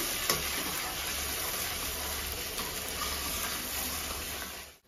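Jackfruit curry sautéing in oil in a pan, a steady soft sizzle and hiss with occasional stirring scrapes, continuous and fairly quiet, cutting off abruptly at the end.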